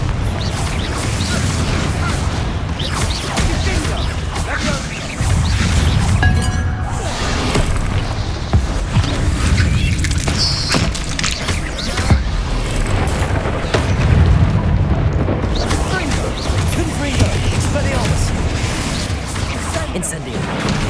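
Confringo explosive spells blast repeatedly in Hogwarts Legacy, dense booming impacts and crashes layered over continuous combat noise, with shouted incantations throughout.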